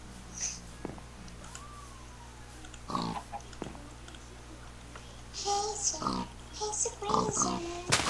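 Pig from a survival video game oinking and snorting in several short grunts, moderately close, while players talk over game ambience.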